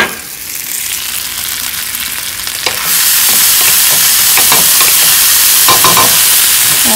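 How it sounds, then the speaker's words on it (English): Crushed peppers hit a hot pan and set off a loud, steady sizzle that swells sharply about three seconds in. Stirring scrapes break through now and then, with no voices. "I'm just gonna add some crushed peppers in this pan."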